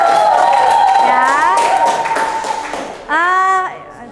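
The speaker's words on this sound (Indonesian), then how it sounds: "yang lainnya beri tepuk tangan dulu ya untuk presentasi kelompoknya Ibra" Classmates clap for a group's math presentation in a grade seven classroom, a brief scattered patter nearly buried under sustained voices and chatter.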